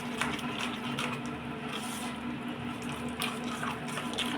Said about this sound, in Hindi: इस तरह से हम थोड़ा थोड़ा पानी डाल के इसे थोड़ा घोल बनाएंगे इसका।